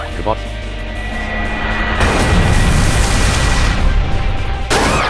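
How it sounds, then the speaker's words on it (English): Lunar Cannon attack from the Manamon 2 video game, a loud sustained blast of booming, rumbling energy that swells after a brief lead-in and ends with a sharp cut, heard alone without speech. "Choose a move. Lunar Cannon."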